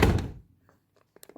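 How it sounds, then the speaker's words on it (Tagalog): A door at the back of a house in the Netherlands is opened during a snowstorm, a loud thunk of the latch and frame followed by a quiet pause and a few faint clicks and taps. "Buksan natin yung pinto"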